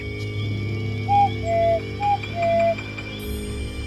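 An owl call imitated by a person as a signal: four short, clear whistled hoots in two pairs, fairly loud over a steady background hum, with no talk.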